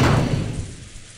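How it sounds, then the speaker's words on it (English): A single heavy knock lands on a door in the Umineko video game, a brief close thud that fades quickly. "There was a knock on the door, and Genji-san entered."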